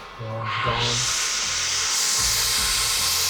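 Cooling fan on a Harley motorcycle that runs hot, spinning up into a steady, loud, close rushing hiss that holds constant throughout, with no talk over it.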